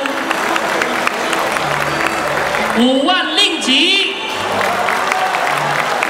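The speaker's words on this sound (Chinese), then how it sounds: "我们给她一个热烈的掌声。" Applause and crowd noise greet a donor on stage at a community gathering, a steady clatter of clapping lasting throughout, with a voice speaking over it.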